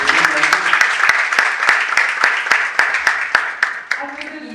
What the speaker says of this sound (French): Merci d'applaudir M. Alkitegui.